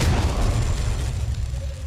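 Flashbang grenade detonating in Alien: Isolation, a heavy low boom that rolls out and decays over a couple of seconds, loud and close with no talk over it.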